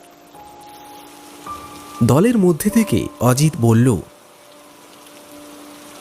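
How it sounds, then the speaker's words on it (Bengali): Light December drizzle falling outside a tea stall makes a faint, steady hiss throughout, and a voice speaks briefly over it in the middle. "সকাল থেকে টিপটিপ বৃষ্টি পড়েই চলেছে।"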